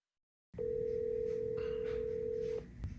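A steady telephone ringback tone sounds as a call is placed, one long unbroken tone lasting about two seconds after silence, followed by a faint click.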